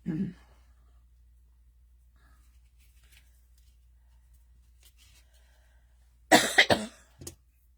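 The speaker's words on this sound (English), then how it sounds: "I have determined that fabric makes me cough right now." A person coughs from dusty fabric: a short cough at the start, then a quiet stretch with faint rustling, and finally a loud cluster of harsh coughs and throat-clearing close to the listener.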